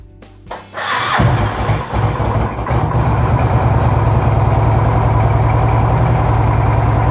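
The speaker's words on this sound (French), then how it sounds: "Donc, juste faire tourner la moto quelques instants." A motorcycle engine starts and then idles steadily after an oil change, a loud, close, even rumble that runs unbroken once it catches.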